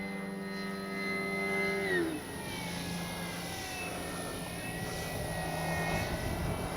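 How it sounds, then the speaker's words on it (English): A 3X Flex RV8 60E electric RC airplane flies knife edge overhead, its motor a sustained whine that bends downward in pitch as it passes, then settles into a fainter drone over outdoor background. "Man, it's a fun plane to fly."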